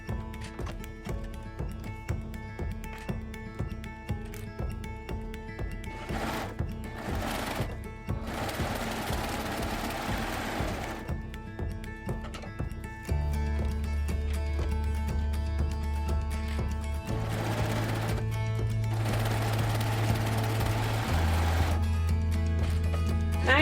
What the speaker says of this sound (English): If you have a serger, it's quick and easy.